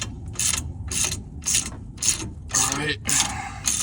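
A hand ratchet clicks in steady rhythmic bursts while loosening nuts on the rear suspension U-bolts of a Honda Acty HA6 kei truck. About eight close, crisp pawl runs come in a row, and one brief spoken word is heard.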